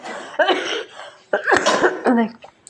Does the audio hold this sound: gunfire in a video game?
no